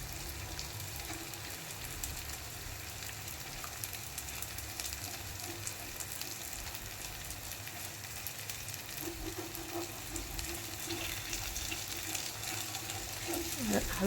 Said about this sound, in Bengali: এবার এই মাঝখানে যেখানে তেল দিলাম সেখানে এবার ডিমটা দিয়ে দেবো